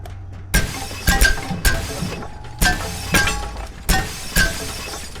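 Glass panes smash repeatedly in Abiotic Factor, a quick irregular run of bright crashing breaks, some doubled in fast succession, loud and close with no voices.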